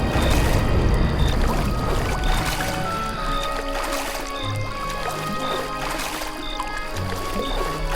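An old wooden boat moves through river water at night, with its oars or hull splashing and gurgling close by in slow, repeated surges under a quiet ambience in an animated horror story.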